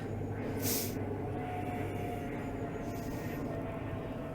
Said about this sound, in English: Oh, there's a plane going over.